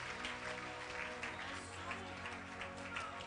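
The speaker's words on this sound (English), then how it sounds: "Clap your hands to Jesus." A large church congregation at an Easter Monday revival service claps along, a dense, far-off wash of hands under background crowd noise.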